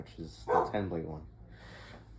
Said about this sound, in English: So sorry about the dog in the background.